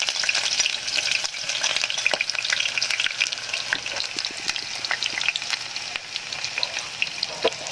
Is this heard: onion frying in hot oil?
yes